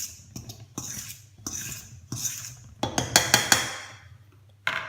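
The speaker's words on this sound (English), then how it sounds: "whisk that up." Rhythmic scraping and tapping of a whisk in a bowl as butter is worked into cannoli dough, strokes growing quicker and denser toward the end, close-up and with no voices.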